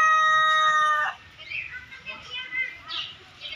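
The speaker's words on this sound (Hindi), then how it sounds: "देखिए काला मुर्गा" A black rooster crows outdoors in a park, one loud drawn out cock-a-doodle-doo lasting about a second, followed by faint clucking and distant children's voices.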